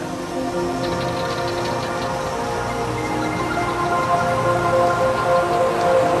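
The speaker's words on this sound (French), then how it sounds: "Un spectacle rare, la pluie en Namibie." Steady rain falls in Namibia throughout, a dense, even hiss of drops spattering on surfaces, with a low rumble underneath and no voices.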